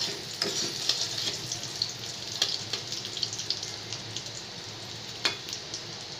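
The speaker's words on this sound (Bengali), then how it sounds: "আর করলাটা ভাজা হচ্ছে, করলাটা খুব সুন্দর করে লাল করে ভাজতে হবে।" Bitter gourd and dried red chilies fry in oil in a pan for a Bengali bitter dal. A soft, continuous sizzle runs underneath, broken by occasional sharp clinks and stirring taps.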